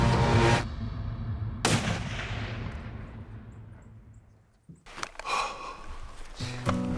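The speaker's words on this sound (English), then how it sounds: "Now I've got a quartering away shot. I got to take it." Two loud, close rifle shots ring out while hunting Coues deer outdoors, each a sharp crack followed by a long fading echo, then rustling and movement.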